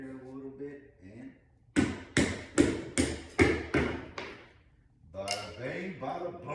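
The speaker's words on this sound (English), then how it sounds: "hammer it in there a little bit" A knife is hammered into wood during a homemade kayak build, with six or seven loud, evenly spaced knocks ringing out close by, while someone talks before and after the blows.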